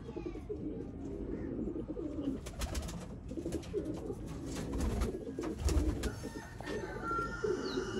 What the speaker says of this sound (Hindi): ये हैं जी दोस्तों चैंपियन ब्रीडर फिरोजपुरी कबूतर।